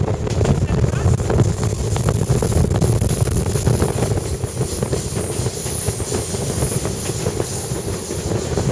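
A train rumbles along with continuous rolling and rattling heard from inside a glass-sided carriage in Alaska, with wind noise on the microphone and people talking over the steady clatter.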